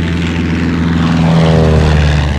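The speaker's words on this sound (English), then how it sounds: "US planes launch another attack against targets on the Japanese mainland" US propeller-driven warplanes attack targets on the Japanese mainland: a loud, steady engine drone with a deep propeller hum that swells slightly as the aircraft passes close.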